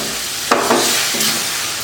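Tamarind water poured into bitter gourd kuzhambu in the pan, with close stirring scrapes and a steady light sizzle from the curry base.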